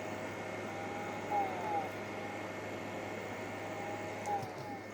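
An air conditioner hums steadily inside a thrift store, a faint constant drone with a low tone, interrupted by a few soft chirps and clicks.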